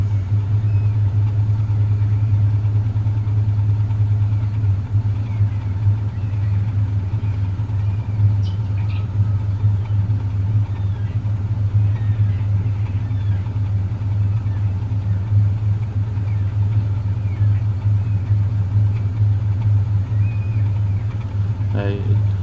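A Liquid Intelligence 245 car engine, running slightly rich and awaiting head gasket repair, idles steadily with a continuous low rumble and even hum close by for the whole stretch.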